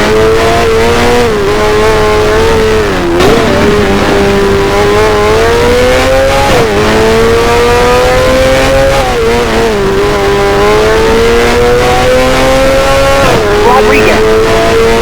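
A Formula 1 race car engine screams from onboard, its loud high-pitched whine rising and dipping through repeated gear changes and throttle shifts.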